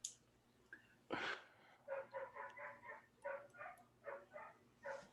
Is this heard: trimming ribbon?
no